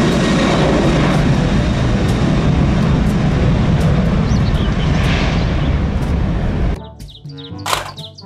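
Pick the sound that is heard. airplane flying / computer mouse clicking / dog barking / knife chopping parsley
airplane flying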